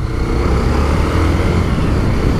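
Honda CB 300 motorcycle engine droning steadily while being ridden, a loud, continuous broadband rumble with wind noise throughout, no voices.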